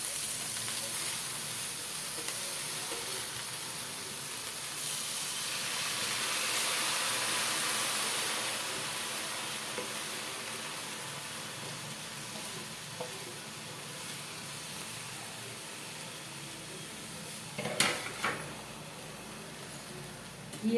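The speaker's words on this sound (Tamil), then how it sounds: "இப்போ நறுக்கி வச்சிருக்கிற கீரையை போடலாம்." Chopped spinach hits a hot pan with a steady soft sizzle and frying hiss that swells and then settles, with occasional stirring scrapes and a clink near the end, no talking.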